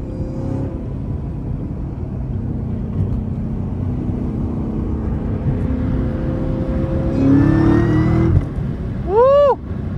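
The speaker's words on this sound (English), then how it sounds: "Letting y'all hear the supercharger a little bit." A supercharged Chevrolet Camaro ZL1 1LE drives at night on wet roads, its engine rumbling steadily with supercharger whine, then revving up loudly near the end alongside a rising sharp whistle.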